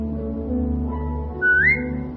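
In The Walking Dead game, a single short rising whistle to a dog named Rosie sounds clearly once over a low steady background hum.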